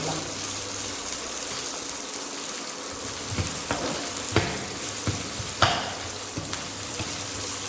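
Something sautés lightly in a pan with a steady frying hiss, broken by occasional sharp spatula scrapes and clicks against the pan.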